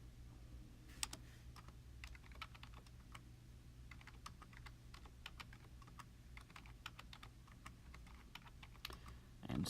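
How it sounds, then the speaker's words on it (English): Steady keyboard typing as data is entered on a computer, a continuous run of quick, fairly faint key clicks at an even pace, with a low background hum beneath and no talking. "And so just typing it in"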